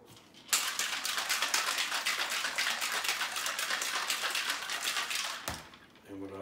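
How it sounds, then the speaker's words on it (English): Cocktail shaker holding a Painkiller mix of rum and triple sec, shaken hard in a fast, continuous rattling rhythm for about five seconds, close and fairly loud, then stopping abruptly. "Okay, then we're gonna shake it up."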